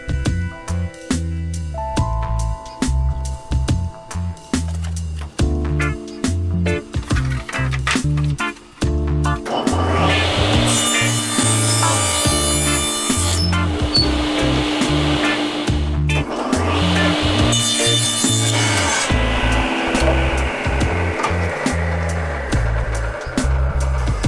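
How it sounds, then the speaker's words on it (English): A table saw cuts plywood in a workshop. A loud motor whine is joined by two long, harsh cutting passes as the blade goes through the sheet, with a drone continuing throughout. "bring it over to the table saw"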